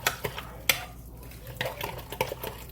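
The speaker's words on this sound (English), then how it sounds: "Stir it up really good." Ground beef carne picada being stirred in a pot, with a spoon scraping and clinking against the pot in short irregular strokes. The sound is close but fairly quiet.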